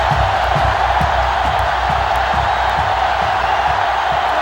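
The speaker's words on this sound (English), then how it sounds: "And this crowd is going absolutely crazy." In the NCAA Football 2005 video game, a stadium crowd roars loudly and continuously for a Tigers vs Green Wave game, with scattered whoops and rhythmic pulses in the din.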